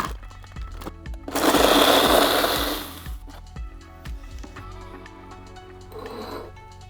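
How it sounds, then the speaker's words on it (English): A countertop blender whirs loudly through a bourbon cranberry cooler with about one and a half cups of ice, a dense grinding roar lasting under two seconds before cutting out, followed by quieter clinks and a brief second hum. "Blend it up."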